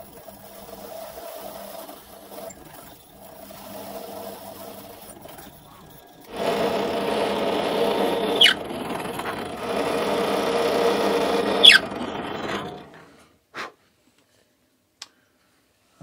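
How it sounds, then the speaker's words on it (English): A small power drill bores magnet slots into a lamp panel, its motor whining steadily for several seconds after a quieter stretch, with a couple of clicks and a stop at the end. "I will drill here slots for two magnets"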